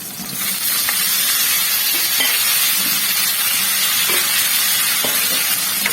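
Tomato mixture for egg kurma sautéing in a pan, a steady, even sizzle and hiss throughout with faint occasional stirring clicks, no voices.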